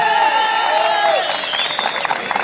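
A crowd at a bull tournament breaks into applause with scattered whoops and cheers, rising right after an amplified announcer's voice and continuing loud and close.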